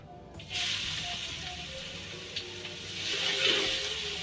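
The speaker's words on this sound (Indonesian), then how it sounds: "Nah ini kita tumis sampai benar-benar harum dan warnanya kuning kecoklatan ya" Chopped garlic sautéing in hot oil in a pan, a steady close sizzle that swells after a moment and grows a little louder toward the end, with faint kitchen clinks and no talking.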